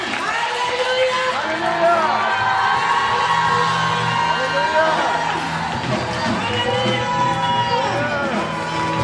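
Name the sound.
congregation clapping and shouting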